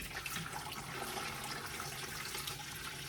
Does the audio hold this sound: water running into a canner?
yes